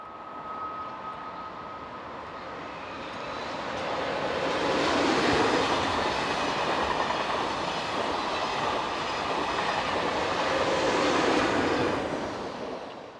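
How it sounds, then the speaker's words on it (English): A TGV high-speed train, set 4405 on the Nice to Genève service, rushes past on the tracks as a broad roar that swells and holds and then begins to fade, with a faint tone audible at first. "This is the 1057 from Nice to Genève, formed of TGV set number"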